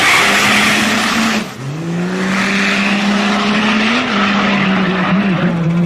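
A Pro Street race truck roars past at full throttle, its loud sustained engine note dipping briefly as it shifts gears and then pulling hard again, heard close and continuous.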